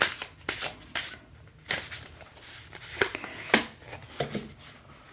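Tarot cards shuffled by hand in a quiet room, giving repeated crisp riffling and slapping bursts in an uneven rhythm, close and moderately loud with no talking.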